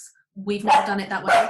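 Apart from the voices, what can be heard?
dog barking, a sausage dog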